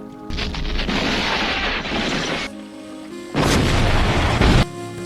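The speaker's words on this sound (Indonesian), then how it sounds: "Blondie pun menembakkan meriam ke arah Tuko." Cannon fire in a western film: two long, heavy booming blasts with rumbling tails, separated by a brief quieter gap, loud and close.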